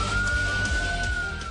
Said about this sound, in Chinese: 警车过来